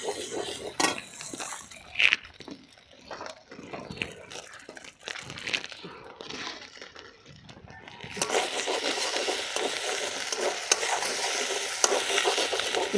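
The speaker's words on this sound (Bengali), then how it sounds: "আদা রসুনটা একটু ভেজে নিচ্ছি।" Ginger and garlic fry in a pan with stirring and crinkling scrapes, turning into a steady, louder sizzle partway through that continues to the end.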